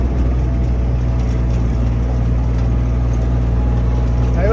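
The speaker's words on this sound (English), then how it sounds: "So this kind of tractor we are using," A farm tractor in Kentucky drives along with a loud, steady low engine drone and a constant rumble throughout, close by and without any break.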